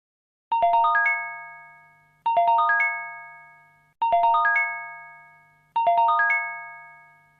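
An emergency notification system alert tone plays four identical descending chime sequences, evenly spaced, each a clean, loud electronic ding-dong falling in pitch and fading, with silence between.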